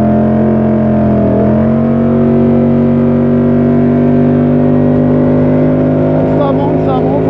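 A BMW C650GT maxi-scooter accelerates hard, its engine note climbing steadily in pitch under loud wind roar, while a rider speaks over it in short phrases.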